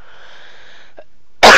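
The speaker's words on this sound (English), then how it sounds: "hopefully that will keep me from coughing for the rest of the time" One sharp, loud cough bursts out abruptly right at the end, after a stretch of faint tonal background hum.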